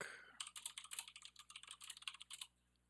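Rapid, close clicking of keys as someone types on a computer keyboard, a dense run of taps lasting about two seconds before stopping, quiet and with no voice.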